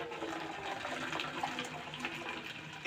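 Boiled liquid pours through a filter in a kitchen, a continuous close splashing, gurgling stream with uneven bursts of trickling throughout.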